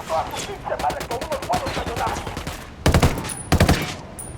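Gunfire in the video game Ghost Recon Wildlands, close, rapid bursts of automatic shots in a rhythmic string, then two short loud volleys, with voices talking under the first part.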